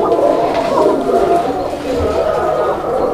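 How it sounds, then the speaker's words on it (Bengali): Domestic pigeons at a pigeon market coo in low, soft repeated calls, close by, mixed with someone talking over them. "আমি সবসময় কবুতরগুলো ডাক দেখে তারপর প্রতিবেদন আনি"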